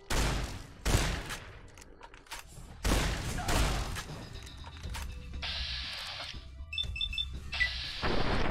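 Shotgun blasts from Fallout: New Vegas, a few loud separate booms with pauses between them, then mechanical clicks and reload clatter, and no voices.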